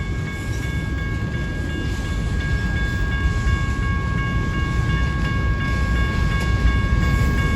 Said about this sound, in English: we got another BNSF train coming